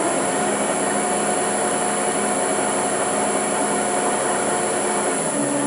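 A Land Rover LT230 transfer box running in, giving a steady, continuous mechanical whirr of gears with a constant high tone, close and loud throughout, with no speech.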